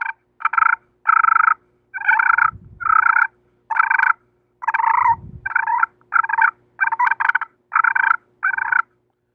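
A slate turkey call worked with a corn cob striker produces about a dozen short, raspy calls in a steady rhythm, close and clear, with a faint low thump between some of them.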